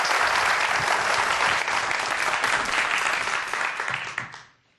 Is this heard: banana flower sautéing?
no